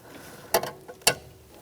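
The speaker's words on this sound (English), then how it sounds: "Now we're going to take this line out" A wrench works loose a brake line fitting from a Mazda 3 master cylinder, giving two sharp metallic clicks about half a second apart against a quiet background.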